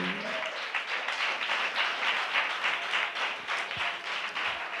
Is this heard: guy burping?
no